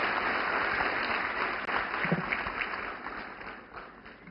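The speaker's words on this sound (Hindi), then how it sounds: "जोरदार तालियां" Loud, sustained applause from a large crowd at a government event for women, dense and steady throughout, tapering slightly toward the end.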